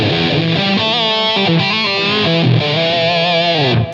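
An electric guitar played through the Line 6 Helix Ratatouille distortion model on firmware 3.1, sustaining thick, saturated chords and bending notes for about four seconds, loud and unaccompanied.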